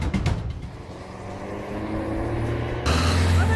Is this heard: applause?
no